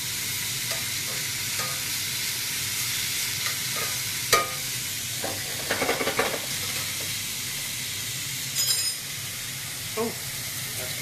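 Pork pieces frying in a hot pan for a breakfast coconut curry, with a steady sizzle throughout and a few brief scrapes and clatters of stirring and turning.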